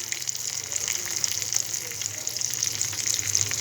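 Ground spices and ginger-garlic paste sizzle steadily in hot oil for fish roe kofta, a close, continuous crackling fry with no talking.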